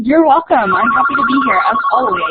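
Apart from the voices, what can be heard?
mobile phone ringing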